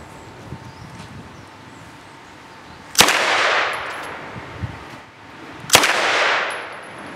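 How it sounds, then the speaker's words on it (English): Two loud, sharp shots from an L2A3 Sterling submachine gun fired live, spaced a few seconds apart, each with a bright crack followed by a ringing echoey decay, alone without speech. "today we have some live fire and slow-mo footage of an L2A3 Sterling submachine gun."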